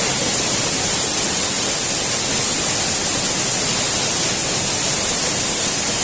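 Mini Ella, a hidden waterfall in Sri Lanka running with plenty of water, gives a steady, loud, unbroken roar of rushing water that stays even throughout, with no voices.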